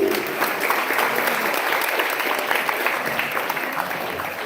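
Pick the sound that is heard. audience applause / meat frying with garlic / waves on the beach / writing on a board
audience applause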